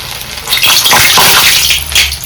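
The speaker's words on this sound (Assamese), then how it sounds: "আমি বনাই থোৱা লাড্ডুকেইটা এটা দি দিছোঁ, ফ্ৰাই কৰি লওঁ।" Homemade gulab jamun dough balls fry in hot oil in a kadai, a steady broadband sizzle with bubbling and faint liquid splashes rising and holding throughout, close and fairly loud.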